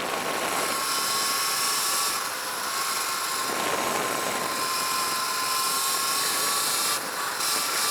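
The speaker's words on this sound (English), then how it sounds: "This is part throttle right here" Sur Ron Light Bee MX electric dirt bike fitted with a KO Moto factory spec combo, ridden at part throttle: a steady, loud motor whine with wind rush, holding an even level throughout with no talking.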